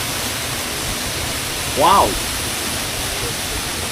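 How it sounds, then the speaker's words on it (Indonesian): A waterfall gives off a constant rushing roar that fills the whole scene evenly, while a nearby voice briefly exclaims midway. "Boleh nampak sekarang kita dekat waterfall yang pertama."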